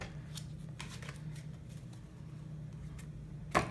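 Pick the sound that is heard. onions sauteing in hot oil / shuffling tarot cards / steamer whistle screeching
shuffling tarot cards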